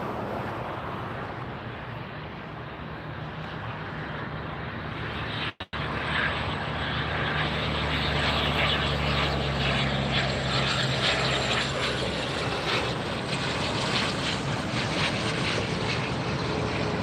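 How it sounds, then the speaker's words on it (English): A small aircraft comes in to land at LAX, its engine roar steady and fairly loud throughout, with a brief dropout partway through and a rising whine toward the end. "here is a much smaller aircraft coming in"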